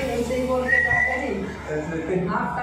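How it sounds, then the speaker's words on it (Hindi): A person whistles a few short, bright tones over a murmur of voices, close and moderately loud. "सीटी बजाना है? सीटी बजाऊँ?"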